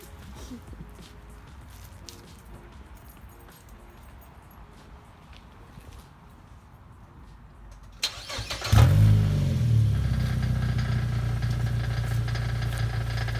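Quiet at first, then a Mazda car's engine cranks and catches, settling into a loud, rough idle with a buzzy rattling undertone from the muffler.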